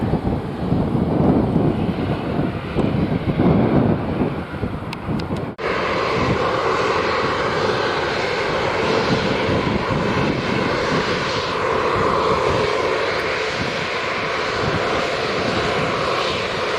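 Airplane engines roar loudly at the runway of Sangster International Airport, a heavy, sustained rumble mixed with wind buffeting the microphone, shifting abruptly to a steadier, broader engine drone partway through.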